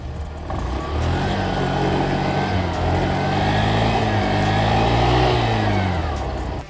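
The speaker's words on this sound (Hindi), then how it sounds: "तो चलिए इसका एग्जॉस्ट साउंड सुनते हैं।" A Honda Dio BS6 2021 scooter with its revised exhaust idles close by, then its engine is revved up and down in a rising and falling, buzzy mid-pitched drone lasting several seconds.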